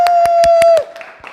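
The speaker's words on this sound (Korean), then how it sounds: "뜨거운 박수로 맞이하겠습니다" Rhythmic hand claps from a church youth-service audience greet a young woman, crisp and evenly spaced over a sustained held tone, brief and fading after a moment.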